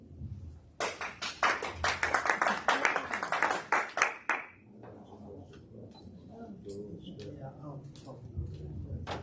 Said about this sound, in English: Please refrain from applauding because we just want to keep it focused on the candidates.